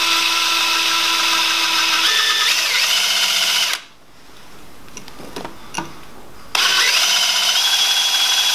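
Power drill boring out a fastener in cast aluminium on a barn-find Ferguson tractor, a loud steady whine that drops away for a few seconds midway with small clicks, then starts again at full strength.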